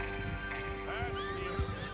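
A horse whinnies in a short rising-and-falling call amid a steady synthetic ambience in Red Dead Redemption 2, with low thuds and faint voices in the background.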